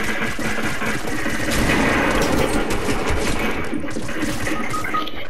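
Gunfire in the Fortnite video game, including pump shotgun shots: a dense, continuous rattle of rapid shots and impacts at steady loudness, with no talking.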